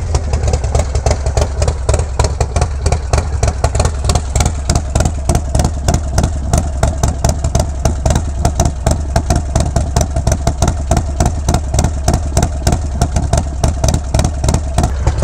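Harley-Davidson Low Rider motorcycle with an S&S 475 cam, its engine running loud and close with a steady, choppy lumpy idle pulse throughout, no talking.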